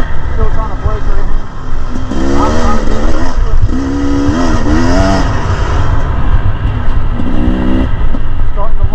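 A new motorcycle's engine runs steadily and loud throughout, with rising and falling tonal revs as it is ridden, and a voice speaks briefly over the engine noise.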